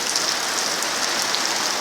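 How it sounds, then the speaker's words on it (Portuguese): Steady rain falling on a rural property, a dense even patter close by with no voices. "Mas graças a Deus que tá chovendo"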